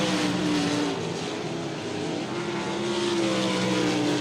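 Sprint cars roar past on a dirt speedway in South Texas during an ASCS Gulf South race, a continuous loud engine drone with shifting pitch from passing cars.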